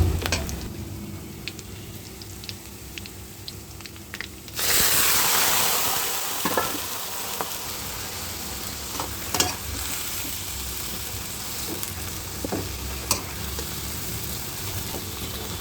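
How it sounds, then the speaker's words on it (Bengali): Ash gourd greens frying with shrimp in a pan give off a loud, continuous sizzle that jumps up suddenly when they are added, with occasional stirring scrapes and clanks. "শাক রান্না হচ্ছে, শাক ভাজি ফোড়ন দেওয়া হবে।"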